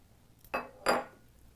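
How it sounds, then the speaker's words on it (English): Two clinks of a utensil against a pot while shredded cheddar cheese is stirred into a thickened milk sauce for shrimp mac and cheese, sharp and close in an otherwise quiet room. "we stir in lots of shredded cheddar cheese"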